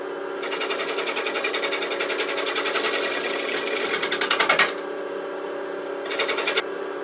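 A wood lathe turns a large cherry burl bowl blank while a tool cuts to true it up, giving a steady, close whirring and chattering that swells near the end, pauses, then returns briefly.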